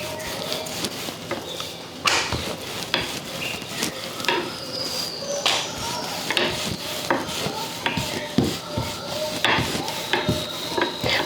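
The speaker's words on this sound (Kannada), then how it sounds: "ಈ ರೀತಿ ಎಲ್ಲ ಎಣ್ಣೆ ಸವರ್ಕೊಂಡಿ ಈಗ ಲಟ್ಟಿಸ್ಕೋತೀನಿ ನೋಡ್ರಿ" Oiled aloo puri dough rolled out with a rolling pin on a board, giving repeated close wooden knocks and soft scrapes in a steady working rhythm, with no talking.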